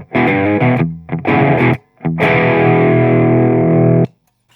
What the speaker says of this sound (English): here's what it sounds like with a flat EQ and no vibrato or reverb yet